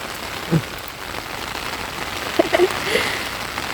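Rain falls steadily outdoors in a cold season, a continuous soft hiss of drops on surfaces with a few louder splats and patters standing out.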